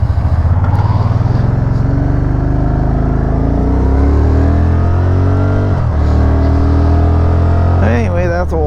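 A 2013 RT-S car engine runs loudly and close, its revs rising and falling in sustained droning sweeps, with a voice briefly talking near the end.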